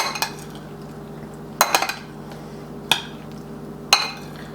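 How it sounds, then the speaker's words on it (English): Bruschetta mixture with onions being tossed in a bowl, a few distinct utensil clinks against the dish spaced apart, with quieter scraping between them. "We're going to mix this thoroughly, break up the onions."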